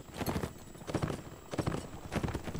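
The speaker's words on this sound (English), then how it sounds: "free horse, free horse. Oh, stop that horse. Stop the horse." Horse hooves galloping in a multiplayer cavalry battle video game, a fast, rhythmic clatter of hoofbeats that surges in repeated loud bursts, close and continuous with no talk.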